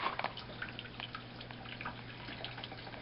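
Water trickles steadily from a small waterfall inside a frog terrarium, a soft continuous patter with scattered faint drips, close and quiet with no talking.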